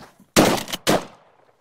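Two loud shotgun blasts fired during a Gambel's quail hunt in Arizona, close and sharp, about half a second apart, each trailing off in a short decay, then quiet.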